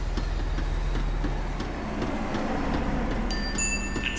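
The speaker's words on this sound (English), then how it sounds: "The tram was slowing down, and I'd only just gotten on board." A tram slowing down in the Max Payne 3 video game gives off a steady, close rumbling rail noise with faint rhythmic clatter, and a few thin high tones come in near the end.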